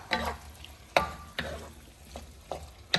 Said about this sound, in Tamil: ஃப்ரை பண்ணினா ஆலு உருளைக்கிழங்கு போட்டு நல்லா கலரணும்